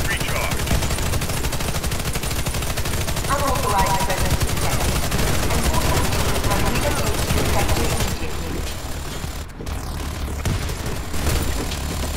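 Rapid, continuous gunfire and heavy energy blasts from the Earth Shaker experimental weapon in the shooter game Warface, loud and dense throughout, with a brief dip before the barrage resumes.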